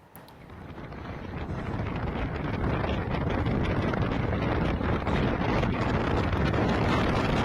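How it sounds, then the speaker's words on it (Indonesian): Strong wind roars across the Suramadu bridge, heard by a motorcycle rider as a constant, loud, rushing buffet on the microphone that builds quickly and keeps going. "merekam saat angin berhembus kencang di atas jembatan Suramadu"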